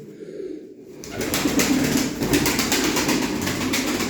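A pigeon coos in low, throaty repeated calls against a steady background hiss, after a brief quieter start.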